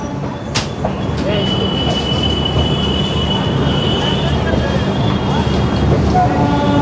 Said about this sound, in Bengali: শালিমার তো স্টেশন থেকে ডিপার্ট করছে